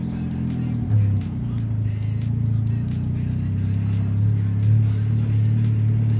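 A small DF Goblin car drives with a steady low engine rumble and drone that swells slightly as it pulls, heard from inside the cabin over faint road noise and occasional light knocks.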